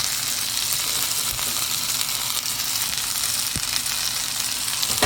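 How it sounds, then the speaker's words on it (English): Onions fry for shrimp devilled, a loud, steady sizzling hiss filling the pan with a couple of faint stirring knocks, no voices. "Go ahead and add the onions as well."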